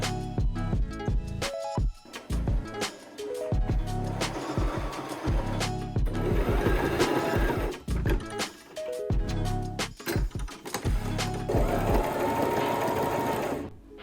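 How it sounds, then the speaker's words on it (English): Domestic sewing machine stitching mystery fabric pieces into a ball, a loud steady run of rapid mechanical stitching with brief stops and restarts, close up. "I need to sew all this together and make it a ball."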